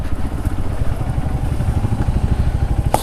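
A motorcycle engine idling close by with a rapid, even low putter, ending in a brief sharp click or clatter near the end as the bike is parked.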